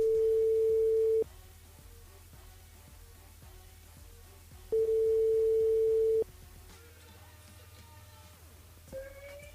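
Telephone ringing tone during a call-in to a radio contestant on a live French-language radio show, two long steady electronic rings with a gap of line hiss between them, then quiet line noise.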